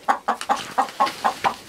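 Hens cluck in a steady, rhythmic series of short calls, about eight in quick succession, close by.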